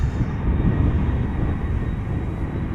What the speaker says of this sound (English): Now this one might get loud, and I'm talking the airplane